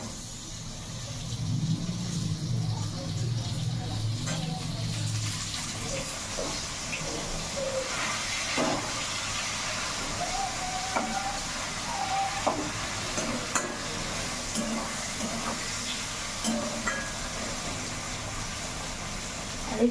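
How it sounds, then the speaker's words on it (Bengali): Chopped tomato goes into frying onions in a pan, giving a steady soft sizzle with occasional scraping stirs, fairly quiet and close. "এরপর এর মধ্যে এই টমেটোটা কেটে দিয়ে দেবো।"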